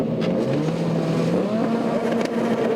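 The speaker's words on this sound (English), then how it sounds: "Revs rise as the red lights go on" Formula 3 race cars idle and rev together on the starting grid at Croft in 2001, a dense, steady engine drone with a rising tone, loud and close with no talk.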